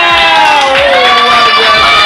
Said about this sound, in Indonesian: Wow, tepuk tangan semuanya.